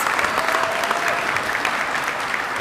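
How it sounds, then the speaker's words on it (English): Commencement audience applauds the board members, a dense, even wash of clapping from a large crowd that holds steady and close without pause. "Please give them a round of applause."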